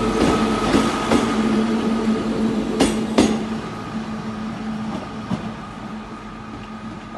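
Class 150 unit 150266 pulls out of Exeter St David's station toward Paignton, a steady rumbling engine drone with a couple of sharp clanks from the rails partway through, heard fairly close and without talk.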